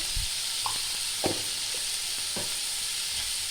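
Mango chutney sizzling in a pan with a steady hiss of frying, broken by a few soft scrapes and taps of a stirring spoon, close and even with no talking.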